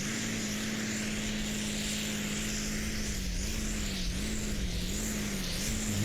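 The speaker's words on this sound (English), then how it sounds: "that big turbos are whistling now, sounding for all the world like a jet engine" A drag racing car's turbocharged engine gives a steady, droning roar with a high turbo whistle over it, like a jet, holding a near-constant pitch that wavers slightly, loud and continuous throughout.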